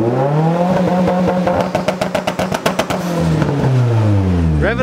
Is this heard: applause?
no